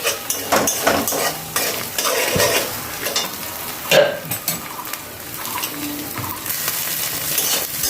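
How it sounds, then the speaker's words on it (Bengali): Egg and onion fry together in a pan, giving a loud, close sizzle broken by frequent scraping and clattering from a stirring utensil throughout, with no talking. "এখন আমি ডিমটাকে একটু ভালোভাবে ভেজে নেব পেঁয়াজের সাথে।"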